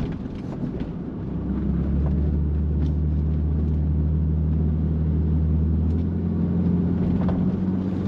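A BMW 325i E30 pulls away, its engine building into a steady, loud low rumble that holds for several seconds, with road and wind noise around it and nobody talking.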